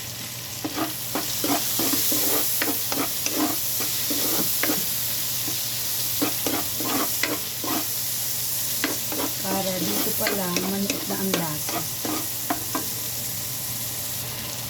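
Meat sautéing in a pan for a beef and sponge-gourd stew, a loud continuous sizzle with a quick, steady rhythm of spatula scrapes and stirs right up close, with no talking.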